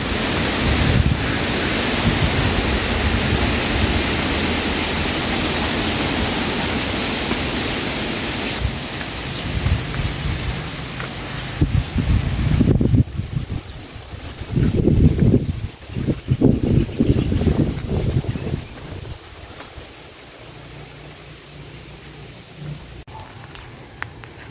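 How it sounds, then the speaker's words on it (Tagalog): Strong wind blowing across an open sweet potato field, loud rumbling gusts buffeting the microphone, surging and easing in waves, dropping off toward the end. "sobrang hangin dito pag mga ganitong buwan"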